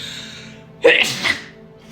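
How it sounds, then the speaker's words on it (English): A single sneeze bursts out sharply in a quiet indoor room, a quick loud onset followed by a shorter second puff that fades within a second. "Sneezing is massive confirmation."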